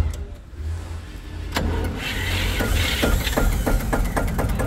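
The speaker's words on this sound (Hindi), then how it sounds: "पूरी हाथ सेल्फ जनरेटर स्टार्ट हो चुका है दोस्तों" An Eicher 15 kVA silent generator with a 222ES single-cylinder engine cranks with an electric self-starter and catches. It settles into a steady, close, even running thump, with sharp regular clicks over the rising hum.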